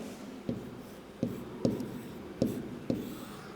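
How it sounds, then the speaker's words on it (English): Chalk writing an answer on a classroom board, five distinct tapping strokes spaced about half a second apart over a faint room hum, close and clear. "So you simply write 15 here."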